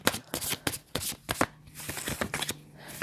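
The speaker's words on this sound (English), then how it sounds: "Let's shuffle here." A deck of cards is shuffled during a tarot-style pick-a-card reading: quick rustling, riffling bursts come in an uneven rhythm, close and fairly loud, with no talking.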